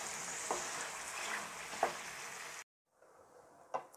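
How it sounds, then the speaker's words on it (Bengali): Pasta mixed with sauce in a full pot is stirred, giving a soft wet sizzling hiss with faint scraping clicks, then a brief pause before quieter stirring resumes. "এখন ভালো করে নেড়ে ছেড়ে নিব।"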